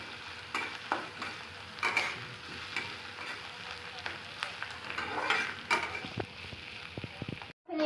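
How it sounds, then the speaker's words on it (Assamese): Onions, bay leaves and dried red chillies fry in oil for lemon rice, giving a steady close sizzle broken by the scrape and clack of stirring, with a few louder knocks near the end. "পিয়াজখিনি মই ৰঙচুৱা হ'লে ভাজি থাকিম"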